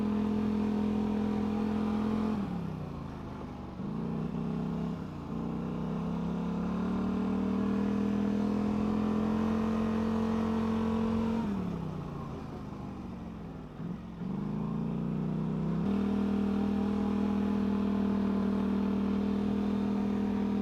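A Polaris Scrambler and a Can-Am Renegade, one with a V-twin engine, riding a lap together: a steady, droning engine hum that rises and falls with throttle changes, heard continuously and fairly close.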